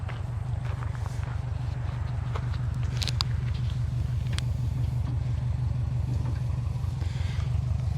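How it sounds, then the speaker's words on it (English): A motorsports car rolls back off a Timpte 1020 Motorsports Series trailer, a steady, close, low mechanical rumble pulsing evenly throughout, with faint higher clicks and knocks on top. "and Tom can just roll the car right back off."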